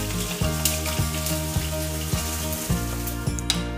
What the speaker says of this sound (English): Just snap some of the hot cooking oil over the top just to finish the